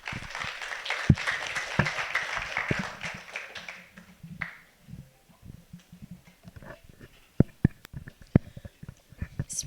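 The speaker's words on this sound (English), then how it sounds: "Please give her a big round of applause." An audience at an Indonesia–Bulgaria diplomatic event applauds for the rector, a moderate clapping wash that fades after a few seconds into scattered quieter claps, faint shuffles and isolated taps.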